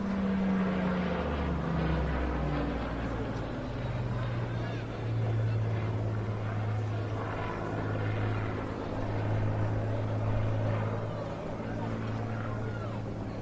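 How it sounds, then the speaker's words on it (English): A Rolls-Royce Heritage Flight aircraft flies an evening display at the Bournemouth Air Festival, its engine a steady, continuous drone that rises and falls slightly, with indistinct voices in the background. "now flies for the Rolls-Royce Heritage Flight and will be displaying for us today as part of our evening flying programme"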